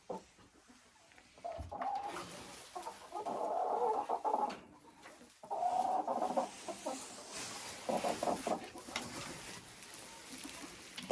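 Broiler chickens fed wheat and corn cluck in irregular bursts, close and moderately loud, with overlapping calls rising and falling over several seconds.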